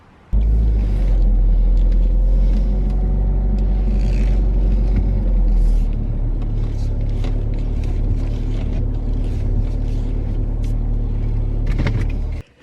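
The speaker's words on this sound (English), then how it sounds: "power steering fluid in the car and start it up and hope for the best" A Saab 9-3 engine idles steadily after a power steering pump rebuild, a loud continuous low rumble starting abruptly and running nearly unchanged for about twelve seconds before cutting off, with no talking.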